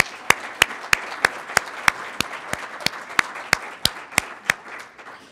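Regular, evenly spaced claps ring out at an awards event, about three per second, each sharp and distinct over a soft room background, sounding more like one or a few people than a full crowd.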